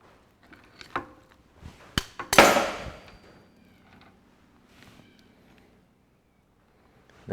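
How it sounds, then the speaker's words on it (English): A screwdriver prying the camshaft sprocket off a 1954 Ferguson TEA20 tractor makes a few sharp metallic knocks and clinks, then one louder grinding scrape of steel on steel, close and quiet between hits. "So we'll get our screwdriver, give this a bit of a"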